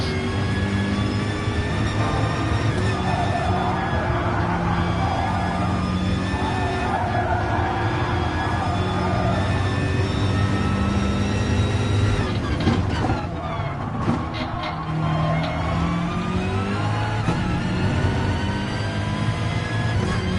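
BMW M6 race car in Gran Turismo Sport at Autodrome Lago Maggiore, its engine droning steadily with rising and falling pitch through gear changes, loud and continuous throughout.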